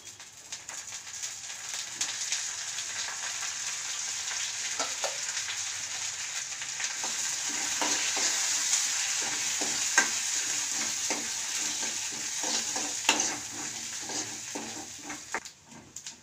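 Curry leaves tempering in hot oil in a pan make a steady, close sizzle throughout, with light stirring clicks and crackles scattered over it.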